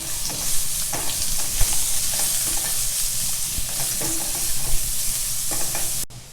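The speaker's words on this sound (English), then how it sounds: "1 onion I have sliced. Just saute this a little bit." Sliced onion with salt sautés in a hot pan, giving a steady close sizzle broken by repeated spatula scrapes and clinks, ending in a brief knock.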